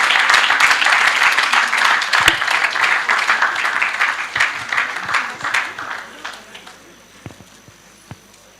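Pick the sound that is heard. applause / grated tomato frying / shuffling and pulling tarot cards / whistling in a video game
applause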